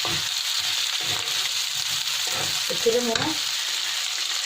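Ginger and garlic frying in a hot pan for a restaurant-style chilli chicken, a loud, steady sizzle with scraping stir strokes near the end and no talking.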